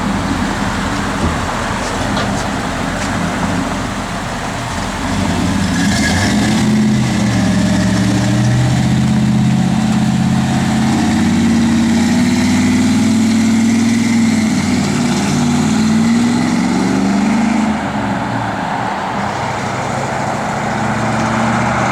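A 1987 Chevrolet Silverado 4X4 truck idles steadily up close, its deep low rumble holding even for the whole stretch with no voices over it.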